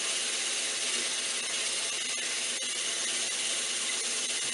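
Sandpaper pressed lightly against a spinning wooden ring dish on a lathe, giving a steady, dense, even hiss with a faint mechanical whir, continuous and close throughout with no talking.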